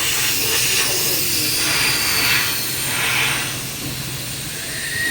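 A steady, loud hiss of air escaping from a tractor tyre runs throughout, rising and falling slightly in strength, over a low rumbling background.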